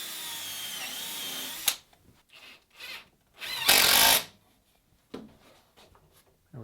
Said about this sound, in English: So mark the stick, drill it.